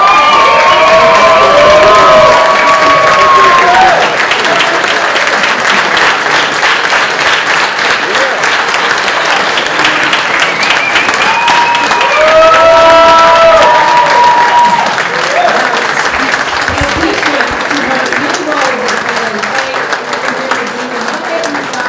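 A crowd at a volunteer gala claps and cheers loudly for a Volunteer of the Year award, sustained applause with whoops and shouts continuing for about twenty seconds and easing slightly toward the end.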